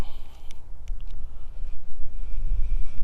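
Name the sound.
wind blowing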